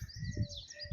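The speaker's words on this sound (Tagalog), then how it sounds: "Yan yung mga uwak." Crows calling outdoors in hot weather on a road trip in Dubai, a brief faint chirp and caw or two against steady background noise.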